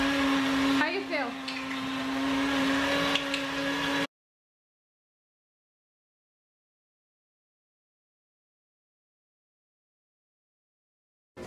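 A blender whirs loudly for a few seconds, its motor pitch dipping and rising, then the sound cuts out abruptly into silence.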